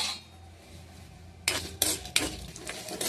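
Dried red chillies frying in hot oil in a pan, with a soft background hiss broken by several sharp metallic scrapes and clinks of a spoon stirring against the pan in the second half.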